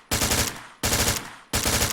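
Three loud, close bursts of automatic rifle fire in ARMA 3, each a rapid rattle of shots lasting most of a second, fired from a low stance at targets 300 meters or more away.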